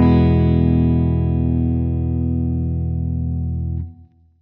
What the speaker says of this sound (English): Sometimes we'll see all the notes stacked up vertically, which means a chord